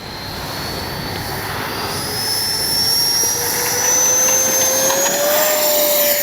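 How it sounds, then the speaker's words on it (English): A Freewing 90mm F-4 Phantom II radio-controlled EDF jet roars on its takeoff run, a loud steady high-pitched electric ducted-fan whine whose pitch climbs gradually as it gathers speed. "All right, take off one more time."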